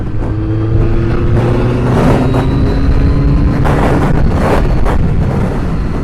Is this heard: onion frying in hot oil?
no